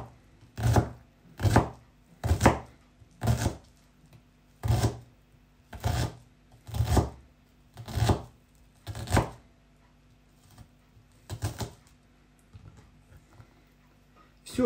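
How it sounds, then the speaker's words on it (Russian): A knife chops an onion on a cutting board in sharp, evenly spaced chops, about a dozen in a row, close and loud, before trailing off. "Ну вот, лук нарезали."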